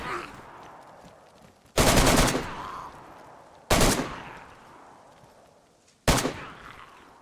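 Three loud gunshots from a rifle in DayZ on the Deer Isle map, spaced a couple of seconds apart, each with a sharp crack and a long echoing tail over faint background ambience.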